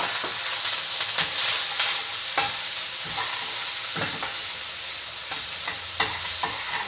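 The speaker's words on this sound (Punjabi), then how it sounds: "ਆਪਾਂ ਕਣਕ ਭੁੰਨ ਕੇ ਬਣਾਉਣੀ" Wheat grains roasting in a pan at home in a village kitchen, a continuous dry sizzling rustle with repeated scraping stirs and small clicks, close and steady throughout.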